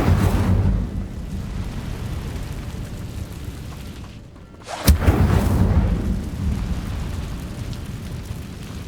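Incendio fire spell in Hogwarts Legacy: a roaring, rumbling blast of flame that fades, then a sharp burst erupts near the midpoint and continues as a loud crackling whoosh.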